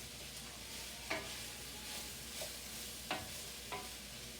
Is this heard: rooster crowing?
no